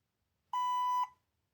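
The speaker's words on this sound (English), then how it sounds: "The final step is just to go to neutral and again wait for a beep." A single clean electronic beep from an ORCA 800 brushed speed controller holds steady for about half a second against near silence, then cuts off.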